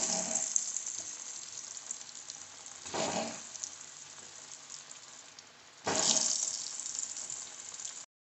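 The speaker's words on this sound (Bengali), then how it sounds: "কড়ার তেলটা গরম হয়ে গেছে, এইবারে ধোকার পিসগুলো ভেজে নেব লাল লাল করে।" Pieces of dhoka, a Bengali lentil cake, fry in hot oil in a wok with a steady close sizzle that swells in two louder bursts as more pieces go in, with no talk.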